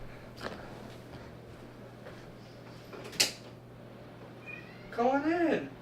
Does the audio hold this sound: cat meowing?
yes